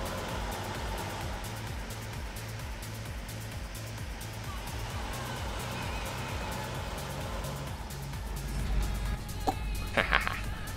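Tractor engine in the Farming Simulator 17 video game, a steady low rumble with a repeating pulse that carries through the whole stretch, joined near the end by a few brief clatters and knocks.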